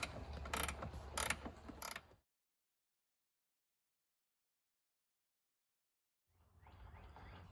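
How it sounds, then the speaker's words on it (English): A ratcheting wrench clicks in rapid bursts while working on the headlight of a Ford Mustang SVO, close and distinct for about two seconds, then silence, then a low background hum. "here's where the ratcheting wrench comes into play. It makes it a lot easier."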